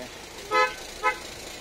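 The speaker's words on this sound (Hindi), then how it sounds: "हम यहाँ ट्यूबल हॉर्न लगवा रहे हैं" A newly fitted tube horn on a car at a motor market is tested with two short, loud toots a moment apart, nearby and clear over a low background hum.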